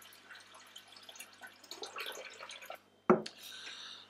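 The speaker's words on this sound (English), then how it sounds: "That is the first pour." Blue Monkey Chocolate Gorilla, a rather flat beer, is poured into a glass: faint liquid trickling, then a sharp near impact and a soft fizzing pour at the end.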